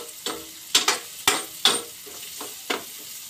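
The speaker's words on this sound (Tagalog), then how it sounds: "Gigisa lang ng konti ang sibuyas." Onions sautéing in a pan for banana heart adobo, with a sizzling fry broken by several sharp stirring scrapes and clacks of a utensil at close range, no voices.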